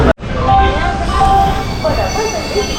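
The Palnadu Superfast Express 12747, running Guntur to Secunderabad, rumbles close and loud at a station, with metallic wheel squeals whining over the heavy rolling noise.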